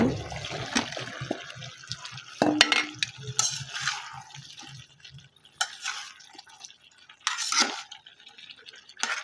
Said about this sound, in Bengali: ভালোভাবে কষিয়ে নিলাম ফুলকপি আর সিমগুলা।